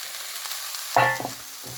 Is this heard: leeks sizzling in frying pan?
yes